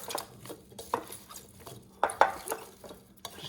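Roasted vegetables, asparagus among them, tossed with garlic in a dish, with soft clinks and scrapes of utensil against the dish in short uneven bursts, close and quiet.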